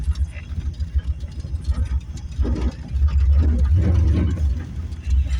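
A 1979 Chevrolet Corvette C3 engine runs close by, starting as an uneven, chugging rumble and then settling into a steadier, fuller idle after a couple of seconds.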